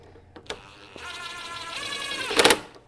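A power screw gun fitted with a Torx bit runs in a short steady whine, driving a screw during a C4 Corvette headlight motor repair, with a few light clicks before it and a sharp burst at the end.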